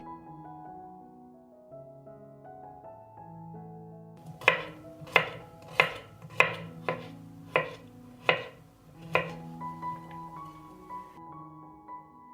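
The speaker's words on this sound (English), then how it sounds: "now I will chop 2 heads of garlic" A knife chops two heads of garlic on a board, about nine sharp, evenly spaced strikes close by, heard over soft background music.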